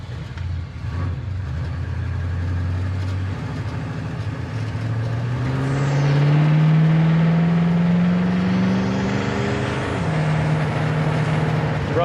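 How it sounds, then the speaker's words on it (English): A cold 1966 Impala convertible's exhaust rumbles at close range, a deep throaty drone that rises as the revs climb, holds for a few seconds, then drops back to a lower idle. "exhaust sounds good. It's got a nice rumble to it."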